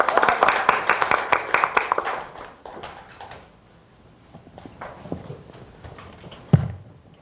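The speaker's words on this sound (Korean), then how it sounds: "박수 합시다" Audience applause at a Christian forum gathering: about two seconds of brisk, fairly loud clapping that quickly dies away into a quiet room, with scattered faint sounds and a short thump afterward.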